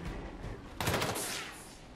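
Enemy gunfire in Gears Tactics crackles as a short, dense burst of rapid shots over quiet game ambience, fairly faint and fading out after about a second.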